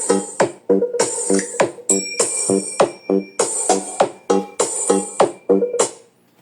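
Music plays from an XDOBO BMTL Mushroom Bluetooth speaker: a DJ remix track with punchy repeating beats and bright synth, loud and close, with no voices over it.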